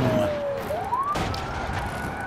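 Police car siren in the BeamNG.drive game, a single wailing tone sweeping down and then rising, loud and close over a steady engine and road roar with no talk.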